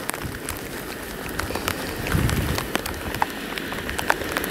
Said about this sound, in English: And raining.